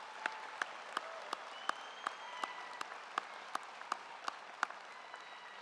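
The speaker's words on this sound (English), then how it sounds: "let's give them an incredible round of applause for the work they've done" Graduation guests in a high school ceremony clapping for the staff, faint and distant, with one steady rhythmic clap repeating about three times a second over a soft crowd wash.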